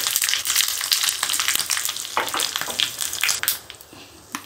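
Dried red chilies and curry leaves crackle and sizzle in hot oil as a tempering for chutney, a busy run of sharp pops and spits over a frying hiss that thins out near the end.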